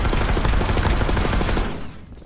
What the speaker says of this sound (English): Definitely people shooting at